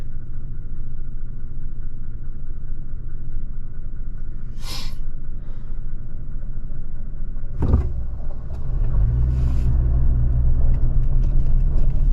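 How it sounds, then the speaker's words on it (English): A truck rolls past on a forest logging road, its low rumble building from about eight seconds into a loud, steady engine drone close by, over a constant low background hum. "Comes another truck. I'll let this one go by."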